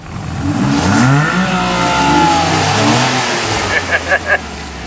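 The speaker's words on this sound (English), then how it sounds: "the rear drive car can't hardly get off the starting line there without spinning his tires on that surface" Two cars, a rear-drive car and an all-wheel-drive car, rev and accelerate hard from a standstill, engines rising in pitch, with a brief squeal of the rear-drive car's spinning tires near the end.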